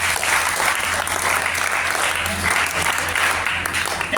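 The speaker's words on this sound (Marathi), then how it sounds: "तुम्हाला सर्वांना विनंती करतो की त्या टाळ्यांचा गदर होऊ द्या" An audience at a school science exhibition breaks into sustained, loud applause, a dense wash of clapping that holds steady for several seconds without pause.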